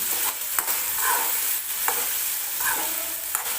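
Dry chickpea curry stirred in a pan, with soft sizzling frying and repeated scraping strokes of a spoon against the pan, close and steady, no talking.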